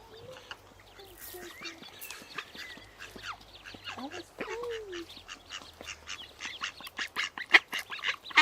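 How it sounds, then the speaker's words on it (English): A mother duck quacking by a river as she leads her ducklings, with repeated quacks and higher peeping calls from the ducklings, growing busier and louder toward the end over faint outdoor background. "Mum's bringing little ducklings over."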